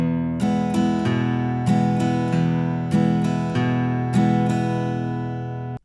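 An acoustic guitar strums a boom-chuck rhythm on the E bar of a country tune, alternating bass notes with chord strums in an even, repeating pattern, close and clear with ringing sustain that fades at the end.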